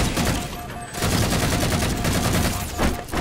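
Sustained rapid automatic gunfire from a weapon in the video game Halo 4, loud and continuous with dense overlapping shots and a brief dip near the start.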